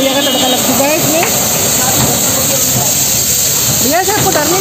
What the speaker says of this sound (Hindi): ये लो भैया का तड़का लग चुका है इसमें।